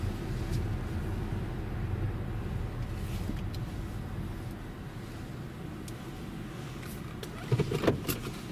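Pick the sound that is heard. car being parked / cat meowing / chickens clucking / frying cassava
car being parked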